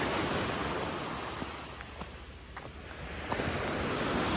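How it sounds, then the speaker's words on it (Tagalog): Steady broadband rush of sea waves washing in continuously, with a few brief louder surges and light wind noise, no voices. "Tumahimik ka na, dagat. Ang ingay mo."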